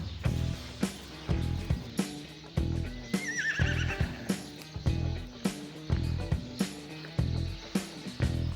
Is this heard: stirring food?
no